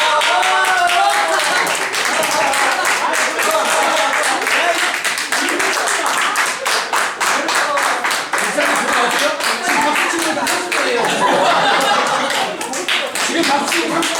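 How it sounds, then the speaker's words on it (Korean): A church discipleship class audience claps in a lively, uneven rhythm, many sharp individual claps heard close, with chatter and chuckling voices running underneath throughout. "지금 박수 치는 한국입니다."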